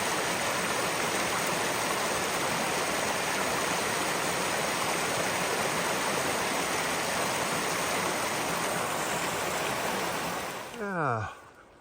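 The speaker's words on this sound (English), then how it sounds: "Beautiful waterfall." A steady, full roar of rushing water from a waterfall along a backcountry trail in Kootenay National Park, constant and close, cutting off near the end.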